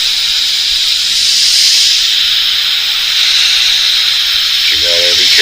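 Thin paint hisses steadily from a spray can during a freehand, stencil-free fade, a continuous close airy rush that barely varies, with a brief voice cutting in near the end.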